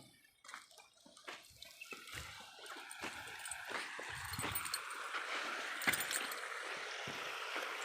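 Irrigation water gurgles and rushes steadily into a dry castor field, growing fuller as it flows, with scattered splashes and knocks near the listener; no talking.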